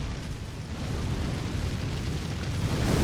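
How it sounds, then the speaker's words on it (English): Fireballs exploding in Elden Ring: Shadow of the Erdtree, a continuous deep rumbling roar of blasts that swells slightly louder toward the end, with no voices over it. "Because he's still firing fireballs in our general direction."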